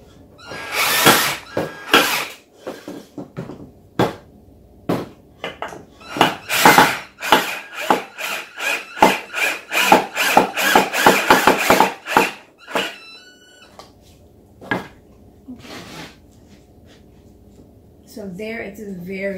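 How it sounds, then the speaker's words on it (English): A handheld power drill drives screws into a wooden dowel in repeated short whirring bursts, some rising to a squeal, mixed with a person talking nearby between bursts. "I'm going to put this aside for a moment as I screw these in"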